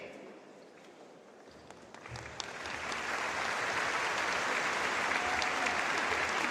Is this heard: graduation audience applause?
yes